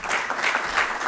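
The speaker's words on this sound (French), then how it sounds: "On peut l'applaudir, merci." Audience applause at a regional event closing session in Hauts-de-France, a steady dense clapping that fills the short moment at even, moderate loudness with no voices over it.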